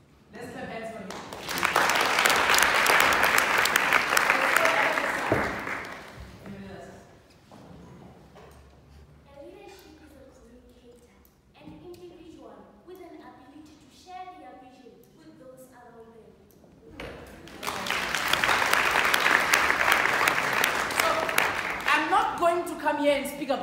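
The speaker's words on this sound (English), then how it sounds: "Let's clap hands for him." A crowd at a Limpopo district election meeting bursts into loud, dense hand clapping, which fades into talk and then surges again near the end.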